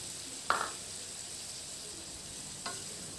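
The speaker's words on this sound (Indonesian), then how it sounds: "Dan yang terakhir kita masukkan telur puyuhnya" Quail eggs dropped into a pan already simmering with bay leaves and bruised galangal give a soft splash and brief sizzle, then a second fainter plop over a steady low bubbling hiss.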